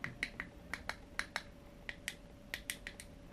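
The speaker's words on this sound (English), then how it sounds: "Then there's a ball that you can roll any direction and you can click it." The ball on a plastic fidget cube is clicked over and over, giving about a dozen crisp, quiet clicks in an uneven rhythm, close up with no talking.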